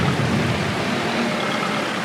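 Heavy pouring rain in a farming video game set in Ireland makes a steady, dense broadband hiss that holds evenly for about two seconds, with no talking.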